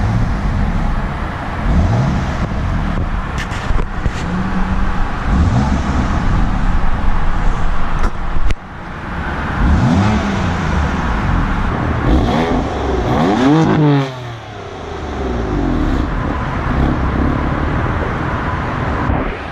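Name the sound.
BMW M4 Competition engine revving, exhaust note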